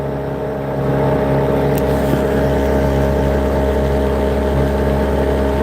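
A motorboat cruises on open water between Clewiston and Moore Haven, its engine a loud, steady, close drone with strong low harmonics that swells slightly after the first second and holds with no talk.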